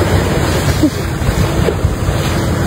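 A continuous roar of stormy surf and wind during a typhoon, loud and close, with no voices.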